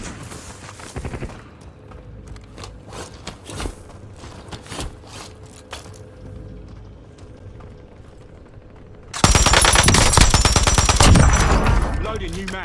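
Rapid bursts of automatic gunfire in the Call of Duty Warzone video game, scattered sharp shots at first, then a loud sustained barrage of fire near the end, with brief game voice lines mixed in.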